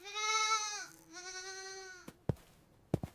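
Two long, wavering goat bleats follow one another up close, then a few sharp clicks and knocks close the sequence.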